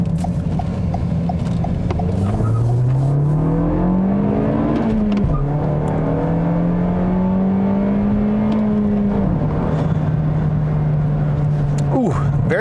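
A 2021 Toyota Corolla Apex engine revs up and drops back several times, rising and falling in pitch with rapid rev-matching blips, loud and close throughout.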